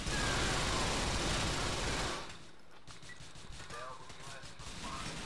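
Gunshots in GTA: The Ballad of Gay Tony, a loud sustained burst of gunfire for about two seconds, then scattered fainter shots and crackles against a busy background.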